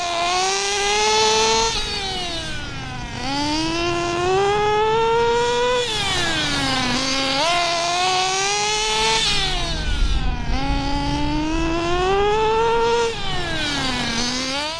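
A Redcat RC nitro engine runs slightly rich during low-speed needle tuning, a loud, continuous high-pitched buzz that rises and falls in repeated revving sweeps, close to the microphone.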